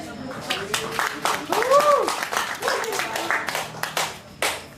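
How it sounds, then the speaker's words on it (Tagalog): Scattered, uneven hand clapping from a small crowd at a Cebuano rap battle, sharp individual claps rising and falling while voices call out and talk over them. "Deserve pud nako ang palakpak sa mga tao."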